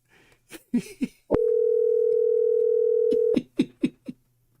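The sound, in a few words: telephone dial tone after call hung up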